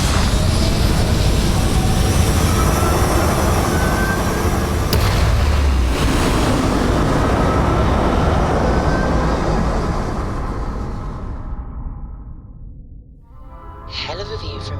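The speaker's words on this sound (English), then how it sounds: "All thrusters firing." Spaceship thrusters firing in Starfield, a loud sustained roaring rumble that holds steady, fades away toward the end, then returns briefly, with a voice speaking over it.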